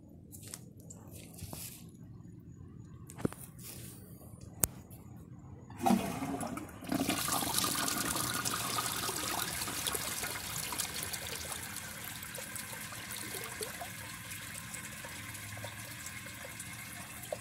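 A 2003 Niagara flapperless toilet flushes with a sudden loud rush of water that keeps churning and draining steadily, preceded by a few faint clicks and quiet handling noises.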